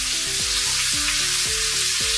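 Butter and four cloves of garlic sizzle loudly in a hot pan alongside steak, a steady dense crackle with a few low scraping stirs cutting through, no voices.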